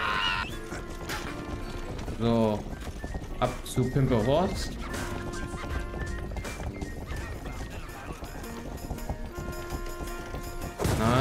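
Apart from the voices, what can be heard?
horse neighing and galloping in the video game Rustler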